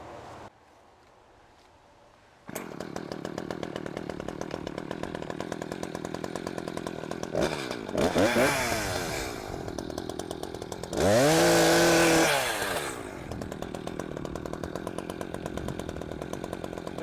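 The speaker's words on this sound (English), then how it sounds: "He's so cute with his chainsaw." A chainsaw runs steadily nearby, its engine revving up sharply twice into loud, high-pitched bursts before settling back to a rough idle.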